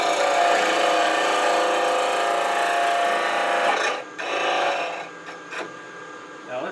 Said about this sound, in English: One of the nice things about turning green wood is it's so much more pleasant.